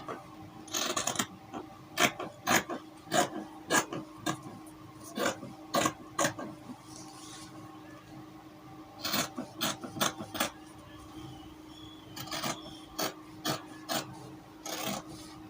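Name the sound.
scissors cutting fabric for princess bust pattern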